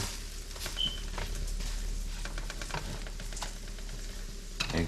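Eggs frying in a pan at breakfast, a close, steady sizzle broken by repeated scraping and tapping of a utensil turning them, with no voices over it.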